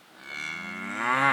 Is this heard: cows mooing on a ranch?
yes